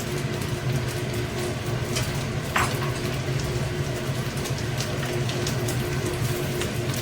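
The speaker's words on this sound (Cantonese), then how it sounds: "將啲蛋液倒入個鑊嗰度" Beaten egg mixed with water and a little cornstarch is poured into a hot wok over medium-low heat, giving a steady, even sizzle and hiss that continues for several seconds without talk.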